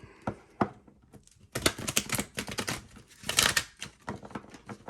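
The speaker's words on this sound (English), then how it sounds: "let me shuffle these cards first." A deck of oracle cards is shuffled by hand, with scattered light taps and then dense crisp riffling bursts of papery clatter, close and fairly quiet.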